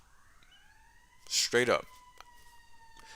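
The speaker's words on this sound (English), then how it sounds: "Sorry for the sirens, guys, but this is the luxury of living in a city." Emergency vehicle sirens in New York City wail past outside, rising into a brief loud burst before fading back to a steady faint tone, while someone speaks briefly.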